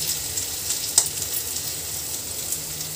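Garlic fries in hot oil for chilli chicken, a constant crackling sizzle with occasional sharper pops and a brief clatter of stirring near the middle, close and steady.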